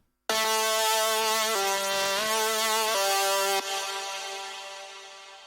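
ISILY2 synth preset with full effects processing: a wide, bright sustained lead playing a few held notes, then ringing out into a long fading reverb tail, alone with no voices.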